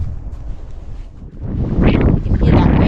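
Wind gusting and building across a snowy mountain ridge in the Angeles National Forest, buffeting the microphone with low roaring rumble that swells louder in the second half.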